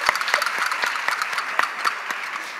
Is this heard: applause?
yes